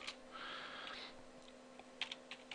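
Quick bursts of keystrokes on a computer keyboard, close and quiet, with a short run of typing followed by a few isolated taps.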